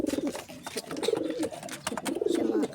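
A pigeon coos close by in its loft, a run of soft, throaty rolling coos repeating in short bursts over faint rustling and wing movement.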